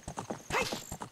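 The horse Epona galloping in The Legend of Zelda: Ocarina of Time, quick rhythmic hoofbeats with a neigh in the middle, fairly faint and without talk.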